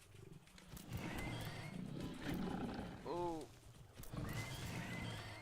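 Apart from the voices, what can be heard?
hogs (pigs) in the video game Satisfactory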